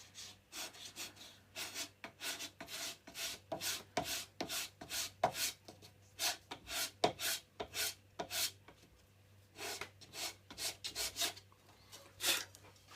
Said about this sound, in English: I'm going to clean the sandpaper